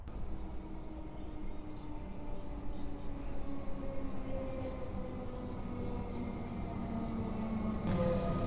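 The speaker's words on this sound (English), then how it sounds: "My train here at Laverton Station has now just arrived" A train rumbles steadily as it rolls into Laverton Station, with low mechanical drone and faint squeals building toward the end.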